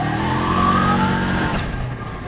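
A Kubota Sidekick utility vehicle accelerating in high range, a loud, close, steady engine note that rises in pitch and then eases off near the end, with no talking.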